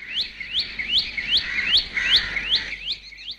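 A red-vented bulbul sings a run of about a dozen quick, evenly spaced rising chirps, loud and close, over a quiet background.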